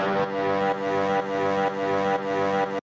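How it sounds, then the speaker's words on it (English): A sustained, buzzy synthesized horn tone with rich harmonics, from a Cashmere horn patch, pulsing slightly in a steady rhythm before stopping sharply, in a tech-house track. "by using just a cashmere horn sound like this."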